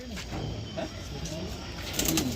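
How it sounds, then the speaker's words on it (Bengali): A restless Madras pigeon coos softly and repeatedly near the listener, with a faint rustle of movement under a person's ongoing talk. "কতটা ছটপট করছে পায়রাটা তোমরা জাস্ট দেখো একবার"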